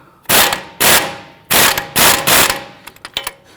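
A wrench ratchets down the sway bar link nut on a 2010-2019 Ford Taurus: four loud, close bursts of rapid clicking, then a few lighter, scattered clicks.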